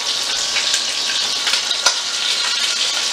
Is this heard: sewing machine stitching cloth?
no